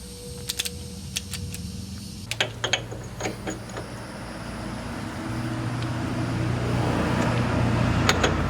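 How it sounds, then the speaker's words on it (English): Torque wrench on a HMMWV geared hub being reset to 25 foot-pounds, a series of close, quick mechanical clicks and ratcheting ticks, followed by a low steady hum. "Now we're gonna reset our torque wrench just to 25 foot-pounds."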